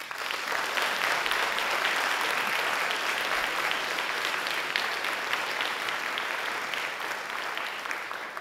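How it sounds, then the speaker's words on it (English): A crowd at a high school academies graduation ceremony claps for the graduates, a loud, dense and steady roar of hands lasting over eight seconds with no talking over it. "A round of applause for our graduates."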